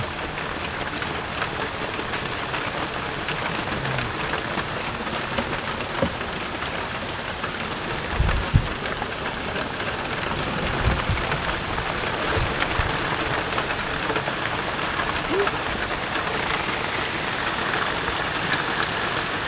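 Heavy rain pours steadily, a dense continuous hiss of drops with occasional low thuds underneath, nearby and loud throughout.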